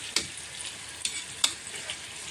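Food frying in a pan, a steady low sizzle with a few sharper crackles and pops spaced across the clip, close and fairly quiet, with no voices.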